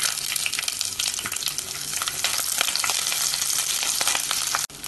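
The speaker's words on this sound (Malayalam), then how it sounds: "ഇതിനി ഇളക്കി വഴറ്റാം" Shallots, garlic, green chili and curry leaves frying in oil for a chow chow curry and being stirred: a dense, loud, close sizzle with scraping stir strokes, cut off abruptly at the very end.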